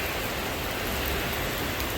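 Steady rain falls during the first rain in Dubai, a dense, even hiss of drops on surfaces that stays constant and fairly loud throughout with no voices.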